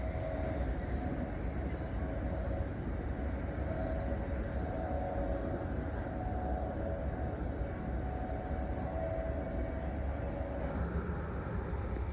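Steady low rumble of a Chinese CRH1E high-speed sleeper train running between Shanghai and Ningbo, heard from inside the carriage, with a faint rhythmic ticking high above the drone and no talk.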